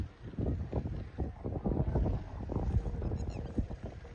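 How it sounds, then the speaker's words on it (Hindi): Strong gusting wind buffets the microphone at an outdoor kite-flying match, a loud, uneven rumbling roar that comes in continuous waves with no clear speech. "बहुत ही तेज हवा है, आप लोग देख ही सकते हो।"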